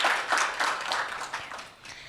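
Applause following a song performance at an official launch and press briefing, a steady broadband wash of clapping from a crowd, moderately loud and sustained throughout with slight swells.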